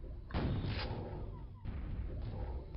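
Gunfire in the video game Quake: two quiet, booming shots about a second apart, each followed by a rumbling tail.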